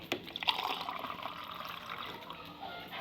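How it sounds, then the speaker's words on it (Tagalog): Cold water pours and trickles steadily into a container, a soft continuous liquid sound close by with no one talking. "Tapos lagyan natin siya ng malamig na tubig."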